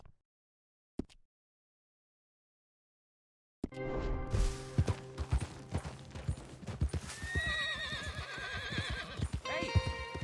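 After a brief near-silence, horses clop steadily on hard ground while whinnies and neighs ring out, fairly close and busy, with some faint voices mixed in.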